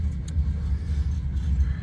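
A GLC freight train reverses along the main line in Howell, Michigan, giving a steady, close, low diesel rumble that holds evenly throughout with no one speaking.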